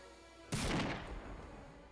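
A single loud gunshot in Postal 2, a sudden close blast followed by a decaying rumble and tail that fades over about a second.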